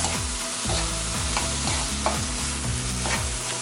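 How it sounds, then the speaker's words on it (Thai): Onion stir-frying in a pan for a Japanese-style pork rice bowl, a steady close sizzle broken by repeated scraping strokes of a spatula at an even rhythm, with no talking. "จะผัดแค่ประมาณหนึ่งนาทีพอ"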